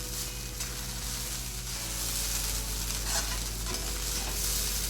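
Vegetable fried rice stir-fried in a kadai with soy sauce and vinegar, a continuous sizzle under steady scraping and tossing of a spatula against the pan, close and even, no talking.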